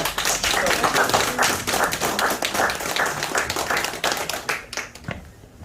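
A church congregation claps together during a Sunday service in a loud, quick, steady burst of applause that carries on for several seconds and then tapers off.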